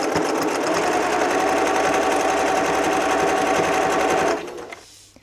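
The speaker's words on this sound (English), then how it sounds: "just back stitch at the beginning of that opening" A sewing machine runs steadily, back stitching a 1/4 inch seam on a terry cloth kitchen cloth, then stops abruptly near the end and leaves near silence.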